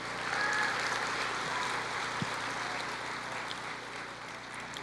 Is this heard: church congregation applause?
yes